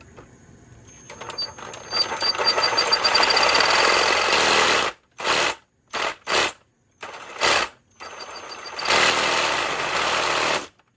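A small toy engine revs hard at high RPM, a loud buzzing whine that runs steadily, cuts out, sputters back in several short bursts, then roars steadily again before stopping, no talking.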